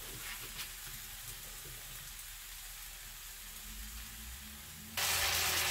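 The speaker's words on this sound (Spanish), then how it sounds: "Así lo llevamos sofriendo." Shredded-style beef sautés in a little oil in a pan, a soft, even sizzle heard close but fairly quietly, jumping to a louder burst of hiss near the end.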